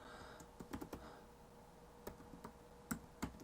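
Keystrokes tapped on a computer keyboard while entering a command in PowerShell, arriving in short irregular bursts of a few quick clicks separated by pauses, close and fairly quiet with no voices.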